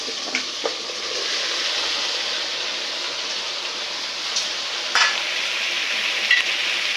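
Vegetables including beetroot and tomato tip into a hot oiled pan for pav bhaji and are stirred, a steady close sizzle and hiss with a few sharp scraping clicks and knocks, no voices.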